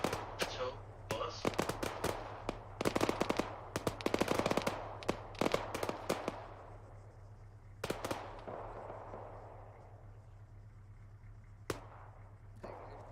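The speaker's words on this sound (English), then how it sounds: "I couldn't hear anything over the gunfire" Rapid bursts of gunfire, sharp cracks in quick clusters with some echoing off in the distance, thinning to occasional isolated shots near the end, over a low steady hum.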